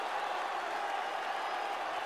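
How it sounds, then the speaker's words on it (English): Boxing fight crowd in Philadelphia cheering and applauding after a heavyweight tournament bout, a steady dense roar of clapping and shouting throughout. "the few Johansson fans in the crowd celebrate"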